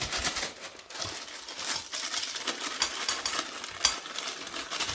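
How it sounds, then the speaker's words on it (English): Cake mix for a peach coffee cake is sifted through a mesh sifter, making a continuous close, soft rustling hiss with a faint rhythmic scratch and brief louder taps, and no one speaking. "First up, I am going to sift this cake mix."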